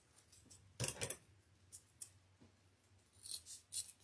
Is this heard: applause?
no